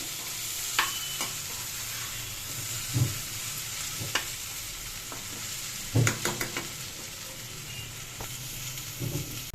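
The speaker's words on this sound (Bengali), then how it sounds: "এদিকে বাঁধাকপিটা সিদ্ধ হচ্ছে" Cabbage cooking in a pot on a home stove gives a steady low bubbling hiss, broken by a few sharp spoon-on-metal knocks and stirring scrapes close by, with no talking.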